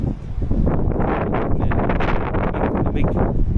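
Strong blizzard wind roars and buffets continuously, loud and close, with gusty surges and rumbling noise across the whole stretch.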